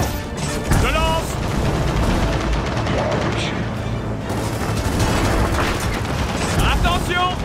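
Explosions and gunfire in the Gears of War 4 video game, with a dense, continuous barrage of booms and shots throughout and a voice talking over the battle.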